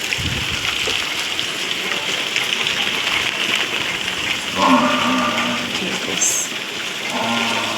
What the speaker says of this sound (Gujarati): વરસાદ ચાલુ જ છે